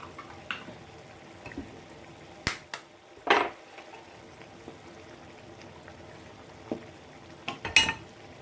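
Eggs cracked into a kefta tajine, a few sharp clicks and taps of shell on the pot rim separated by quiet pauses, with faint kitchen sounds in between.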